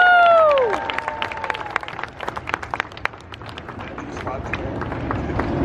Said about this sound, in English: please give a round of applause for your ACE president, Robert Ulrich.